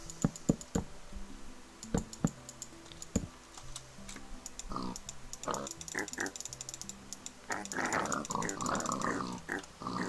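Pig grunts from Minecraft 1.14.3 gameplay, a few short oinks scattered among rapid keyboard typing and clicking clatter, with game sound and louder bursts toward the end.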